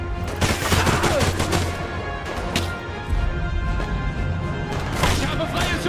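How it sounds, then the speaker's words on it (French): Gunfire in the PC video game Enemy Front: dense, rapid bursts of shots with sharp cracks and impacts, continuing steadily throughout at a moderate level. "Il est où celui qui me tire dessus là?"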